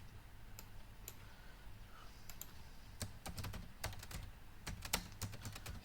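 Someone types credit card details on a computer keyboard, with a quiet scatter of clicks that becomes a quicker run of keystrokes and a few louder taps near the end.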